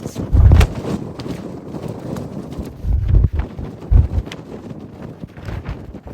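Strong wind buffets a phone microphone at an exposed scenic overlook south of Skyland, with heavy low rumbling gusts swelling and dropping in bursts throughout.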